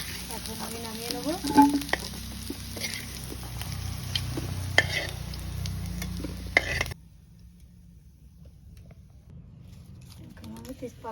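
A bay leaf drops into hot cooking oil and sets off a lively sizzle with stirring clinks, while a voice talks over it. The frying noise then cuts away to near quiet.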